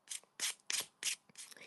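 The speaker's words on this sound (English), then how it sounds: "so this is just a regular emery board" Regular emery board rubbed back and forth in four or five short, raspy strokes at an even rhythm, close and fairly quiet, with no other sound.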